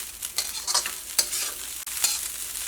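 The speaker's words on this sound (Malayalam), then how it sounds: "ഇങ്ങനെ നന്നായിട്ട് ഇങ്ങനെ ഒരു മൊരിയണ സൗണ്ട് വരണം" Restaurant-style fried rice made without soy sauce is stir-fried in a hot pan, giving a crisp continuous sizzle broken by quick tossing and scraping strokes, close up and with no voices.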